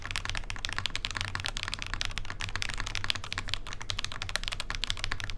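Typing on a Tofu 2.0 top-mount mechanical keyboard, a fast continuous patter of crisp keystrokes, even and close with no talking.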